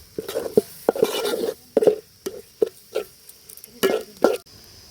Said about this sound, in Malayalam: നന്നായിട്ട് മിക്സ് ആവണ വരെ നന്നായിട്ടൊന്ന് ഇളക്കുക കേട്ടോ